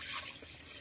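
Boiling water is poured into a pot of stir-fried chicken for a chicken soup with la giang leaves, a brief close splash of liquid with no talk.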